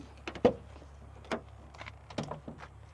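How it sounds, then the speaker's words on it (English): Lift-up doors on a 1991 Toyota Sera open with a few short mechanical clunks and latch clicks, close by, separated by brief quiet gaps. "The doors do lift up."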